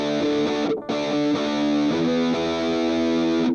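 A distorted electric guitar played through a Digital Metalizer pedal with an analog distortion circuit, sustained crunchy chords ringing loudly with one brief break near the start, no talking.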